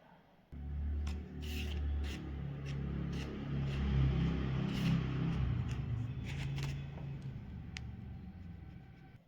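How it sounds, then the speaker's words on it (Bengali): Flour being sifted through a sieve at home for a fruit cake, giving a soft, continuous rustling and shaking with a few light taps over a low background rumble, fairly quiet and without talk. "একটা ছাঁকনির মধ্যে 1 কাপ মতো ময়দা নিয়ে নিয়েছি। এটাকে ভালো করে চেলে নেব"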